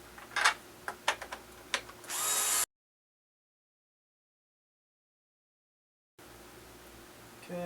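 Long screws being driven into a Onewheel Pint foot pad, with a few sharp clicks and then a short, close burst of a power driver before a long silence and a faint return of room noise.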